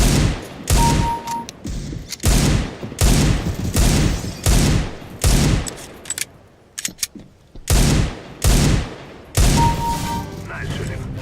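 Gunfire in Counter-Strike: Global Offensive on the Lake demolition map, loud repeated bursts of rapid automatic shots separated by brief pauses, with occasional small beeps between.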